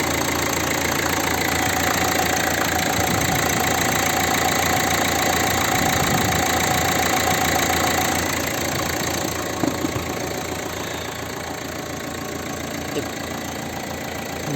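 A Mercedes-Benz A180 W176 with a 1.5 diesel engine and manual gearbox idles steadily, a dense continuous clattering rumble with a faint tick, loud and close, the level easing slightly near the end.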